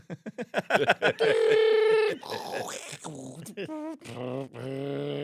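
A man mimics an AOL dial-up modem with his voice, making a rapid run of beeps followed by sustained screeching, warbling tones, loud and close.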